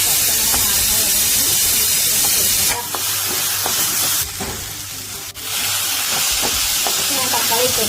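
Masala is stirred in a hot pan with a loud, steady sizzle and hiss, and a spoon scrapes and knocks repeatedly at close range. The frying dips briefly now and then.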